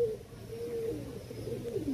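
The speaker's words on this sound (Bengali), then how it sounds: "খুব সুন্দর পায়রা গুলো" Madrasi long-distance racing pigeons cooing softly and continuously nearby, a low rolling coo repeating throughout.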